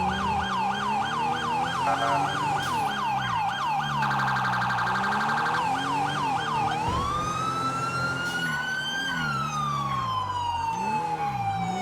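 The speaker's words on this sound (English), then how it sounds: "When I push the button to change my siren, it's a little delayed." Police car siren from the GTA video game, loud and continuous, cycling through wailing and rapid yelping tones, then shifting to a long rising and falling wail.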